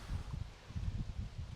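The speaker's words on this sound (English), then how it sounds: "the wind is kicking out pretty good here" Wind blows across an outdoor disc golf course in Tigerville, South Carolina, a steady low rumbling gust buffeting the microphone in uneven surges, with no voices.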